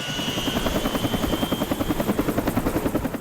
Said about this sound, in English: Sunset brings new challenges for the helicopter.